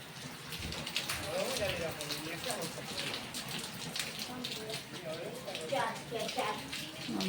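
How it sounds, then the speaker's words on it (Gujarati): Rain falls steadily onto surfaces nearby, a continuous patter and splash, while people talk over it now and then. "જો કેવો વરસાદ આવે છે"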